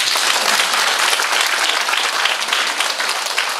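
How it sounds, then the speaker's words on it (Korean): Seminar audience applauding at a company event, a dense, even burst of many hands clapping at close range with no voices over it. "다른 데는 박수 칩니다."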